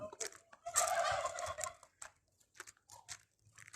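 Chickens squawk and cluck in short, uneven bursts, one loud rasping call followed by scattered quieter calls nearby.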